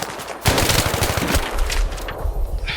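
Rapid automatic AK-74 rifle fire in the shooter game Battlefield 3, a loud sustained burst of closely spaced shots running through most of the clip with dense game noise around it.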